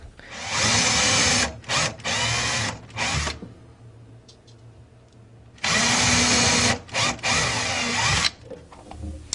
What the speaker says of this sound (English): Now that our holes are drilled